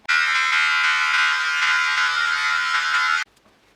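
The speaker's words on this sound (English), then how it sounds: "I'm going to switch to this mini shaver because it might be easier to get into the back." A mini electric shaver buzzes steadily for about three seconds while trimming hair at the back of the head, close and loud, then cuts off abruptly.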